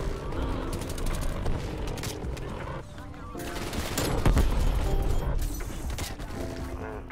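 Rapid XM4 assault rifle fire in Call of Duty Black Ops Cold War, loud dense bursts of gunshots with brief pauses, continuing across the whole stretch amid game effects.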